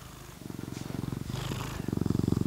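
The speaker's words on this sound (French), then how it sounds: "Oh le ronron." A domestic cat purrs close up in a steady, rhythmic rumble that swells louder toward the end, with a faint voice briefly in the background.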